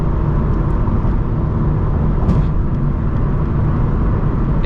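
A turbocharged Subaru BRZ cruises on the road, a loud, steady engine drone with road and wind noise inside the cabin and no talking.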